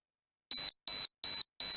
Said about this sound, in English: That beeping does not sound like a good noise.